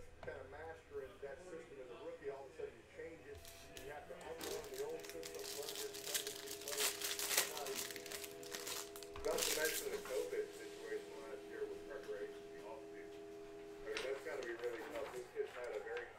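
A 2019-20 Upper Deck Allure hockey trading card pack is torn open, with crinkling, crackling wrapper rips in bursts under a voice talking throughout.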